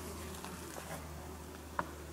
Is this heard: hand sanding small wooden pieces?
no